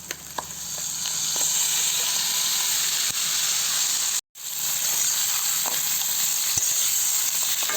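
Crab sizzling and frying in a pan of softened onions, a steady close hiss with occasional stirring clicks and one brief cut to silence midway.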